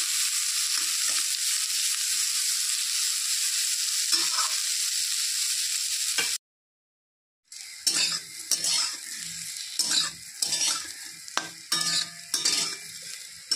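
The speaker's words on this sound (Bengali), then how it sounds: "করলা ভাজা হয়ে গেছে, এখন নামিয়ে দেব।" Bitter gourd frying with turmeric in a pan gives a dense continuous sizzle, cut by a short silent gap, then resumes with clinks and scrapes of a spatula stirring against the pan.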